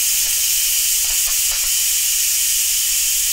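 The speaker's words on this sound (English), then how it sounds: "You just need to bump it enough to let the steam out." Steam hisses loudly and continuously from the valve of a pressure cooker holding beef stew, a steady broadband rush with no voices over it.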